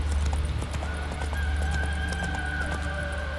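Horse hooves clip-clopping at a steady gallop in a video game, a continuous rhythmic beat with a brief whinny, loud and close under a low droning game soundtrack.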